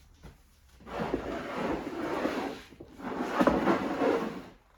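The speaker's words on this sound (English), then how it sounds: "So let's open up the long Secretaire drawer and show you that" A long wooden drawer of a Victorian secretaire campaign chest sliding open in two long scraping pulls, close and fairly loud, with a brief pause between them.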